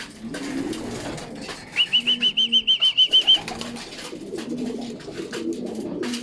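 A racing pigeon arriving at the loft during a fun race in Urdaneta, Pangasinan, flaps its wings in a quick run of about ten loud, close beats. Soft cooing and other pigeon sounds carry on around it.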